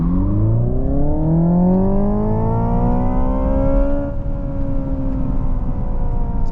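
Hyundai IONIQ 5 N electric car accelerating hard in full front-wheel drive mode, its synthetic engine note climbing steadily in pitch through a long continuous pull, loud and close with a brief dip near the end.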